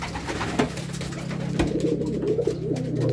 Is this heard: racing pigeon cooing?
yes